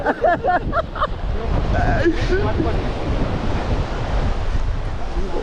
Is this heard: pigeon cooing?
no